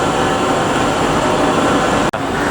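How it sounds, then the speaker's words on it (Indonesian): A driverless Kuala Lumpur LRT light rail train rumbles steadily from inside the carriage, with loud continuous rolling and ventilation noise and one brief dropout. "Udah lama aku nggak naik LRT ini."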